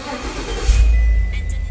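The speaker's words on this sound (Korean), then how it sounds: "플러그를 싹 교체를 하도록 하겠습니다. 자, 시동 걸어 보겠습니다." A Cadillac Escalade engine cranks and catches after new spark plugs are fitted, following a misfire fault, then settles into a steady low rumble; a short close start with no voices.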